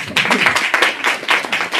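Audience applauding at a talk on occultism, a short burst of dense, busy clapping from a crowd, loud and close, with a voice faintly mixed in.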